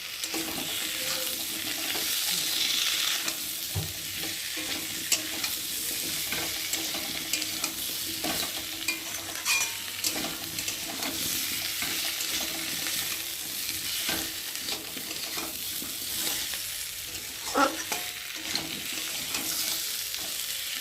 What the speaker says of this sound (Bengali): আদা বাটা, রসুন বাটা, জিরে বাটা, লঙ্কার গুঁড়ো, হলুদ গুঁড়ো আর স্বাদ মতো নুন দিয়ে একটু ভালো করে কষিয়ে নিই